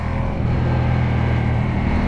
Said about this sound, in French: Je crois qu'il n'y a pas de mots pour définir ce moteur.